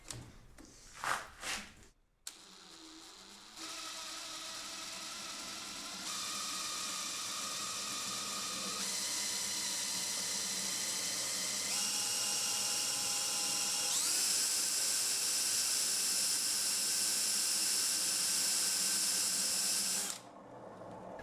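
A homemade DIY 1kW generator spinning up to speed, a loud high whine that steps upward in pitch several times and holds for about twenty seconds after a few clunks, then cuts off.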